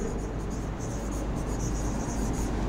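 A pen or pencil writes numbers by hand during a fourth-grade math lesson. The scratching is soft and close, in short repeated strokes over a steady background hiss, and no one speaks.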